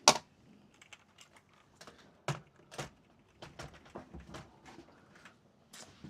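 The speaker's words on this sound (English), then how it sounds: "get my escape key stuck back on my keyboard" Keys being pressed on a computer keyboard during PC repair and diagnostics, a series of sharp, separate clicks in an uneven rhythm, close and fairly quiet, with brief pauses between bursts and no talking.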